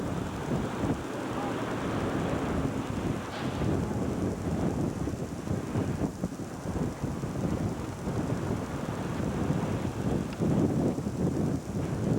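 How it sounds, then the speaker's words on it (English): Strong wind roars across the microphone outdoors, a continuous heavy rumble with gusty swells near a sugar factory in Australia, and a voice talks faintly beneath the buffeting. "It's windy out here today, very windy"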